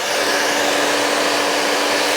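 A hair dryer blows steadily and close while bangs are styled for volume, a continuous airy whoosh with a faint whine, with no talking.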